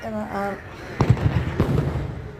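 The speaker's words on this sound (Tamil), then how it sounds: "இன்னொன்று வான வேடிக்கை பார்க்க கண்ணுக்கு நம்ம ஊரில் இருந்தது" Fireworks bang at a village festival in India: two distinct sharp bursts crackle at moderate distance, following a brief voice at the start.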